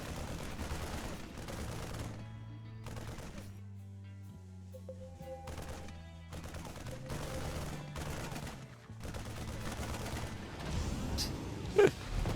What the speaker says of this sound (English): Tank taking a few shots.